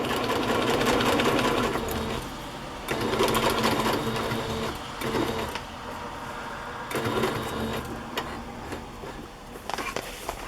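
A sewing machine straight-stitching through a metal thread runs in several loud, close bursts of rapid mechanical chatter separated by brief pauses.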